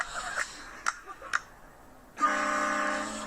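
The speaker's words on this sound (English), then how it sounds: "we put a train horn in my truck and we're gonna go scare some people" A few faint clicks and taps give way to a sudden, loud blast of a train horn fitted to a pickup truck, its harmonic tone held steadily to the end.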